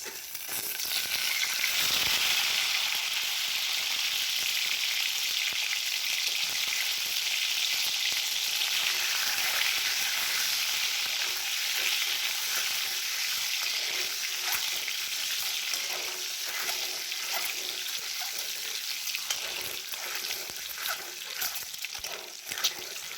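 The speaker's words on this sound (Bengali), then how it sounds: "ওই একই তেলের মধ্যে আর একটু তেল দিয়ে আমরা ডিমটা ভেজে নেবো" Peeled boiled eggs frying in hot oil in a pan, a continuous loud bubbling sizzle with occasional spatters and stirring, steady from start to finish with no talking.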